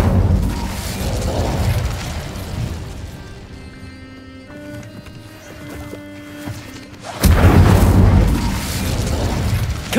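Confringo blasting curses erupt in the Hogwarts Legacy game, booming explosions with rumbling tails, one swelling at the start and a louder blast near the end, with tonal magical shimmer between.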